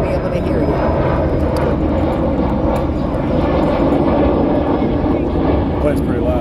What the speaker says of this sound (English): Plane's pretty loud.